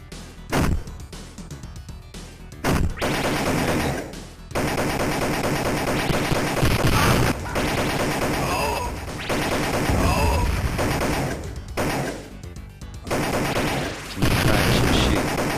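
Rapid machine-gun bursts and booming gunshots ring out in the Judge Dredd Midway arcade game, loud and near, with dense fire broken by short pauses and a voice talking over it.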